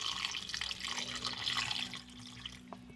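Tap water pours into a pot of lamb ribs, a steady splashing, trickling stream close by that runs continuously, easing slightly near the end.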